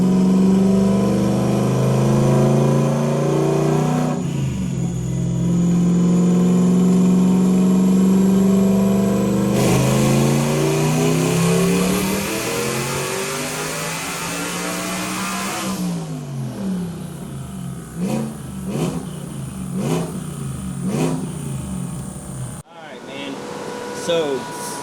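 A 985 HP stock-engine Mustang on a dyno roars through a boosted pull, the engine note sweeping up in pitch, dropping back, and climbing again with loud, sustained, close mechanical drone before cutting off near the end.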